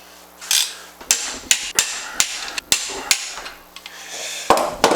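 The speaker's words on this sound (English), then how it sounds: "I torque it. Now, these 3 bolts, the factory calls for 96 foot-pounds. 96 it is." Three bolts on a C5 Corvette drift-car assembly being torqued to 96 foot-pounds, heard as a series of sharp metallic clacks and knocks in an uneven rhythm, close and loud with no talking.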